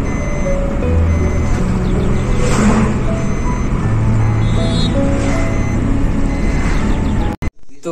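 A car is being driven out in a village in the Bastar region, with steady reversing beeps repeating over the engine rumble and road noise, ending in a sharp knock.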